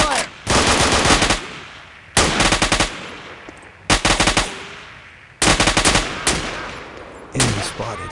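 Bursts of automatic gunfire in the video game Marine Sharpshooter 3, four loud rattling volleys about a second long with short pauses between, close and dominant, with a faint voice shouting underneath.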